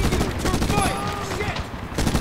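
Sustained bursts of M249 SAW light machine gun fire in the Medal of Honor (2010) shooter, a dense, continuous rattle of rapid shots with voices in the background.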